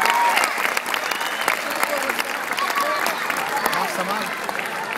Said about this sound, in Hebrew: איפה מחיאות הכפיים שלכם לרס"ל אולג גוטסמן?